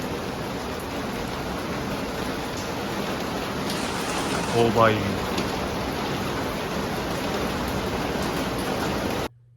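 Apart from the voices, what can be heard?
heavy rain and hail falling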